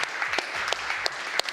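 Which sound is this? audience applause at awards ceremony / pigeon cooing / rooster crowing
audience applause at awards ceremony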